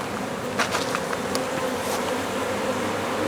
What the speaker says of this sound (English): if it's just that many bees or if they're fixing to swarm.